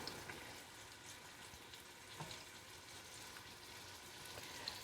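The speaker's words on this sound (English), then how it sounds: "Well, I can hear them sizzling" Meatballs browning in an Instant Pot give off a steady, soft, crackly sizzle, like light rain. It holds at an even, quiet level with a few small pops and no voices.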